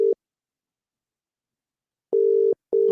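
Telephone busy signal on an unanswered call: a short tone burst, then after a pause two steady beeps with a brief gap, loud and clear with no talking.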